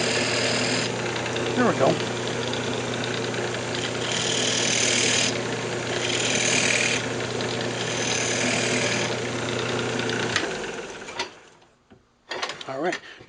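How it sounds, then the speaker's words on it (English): Fingernail gouge cutting small grooves into a spinning purpleheart wood pendant on a lathe, a steady motor whine with scraping bursts of cutting, before the lathe spins down; someone speaks briefly near the end. "just use my fingernail gouge to put a couple little small grooves in it."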